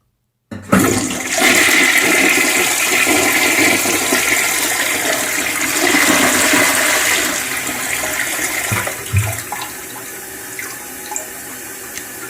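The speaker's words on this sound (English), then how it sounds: "So let me just get started on this flush." An early 1960s American Standard front trap toilet in white flushes with a sudden loud rush of water that swirls and gurgles for several seconds, then tapers into quieter refilling trickles.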